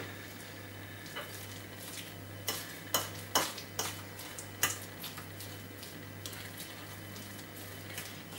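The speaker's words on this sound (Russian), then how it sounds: "И хорошо перемешиваем с зеленым луком." A spoon stirs a cheese spread with chopped green onion, making soft scraping and light tapping against the bowl, with a few sharper clicks in the middle and quieter stirring after.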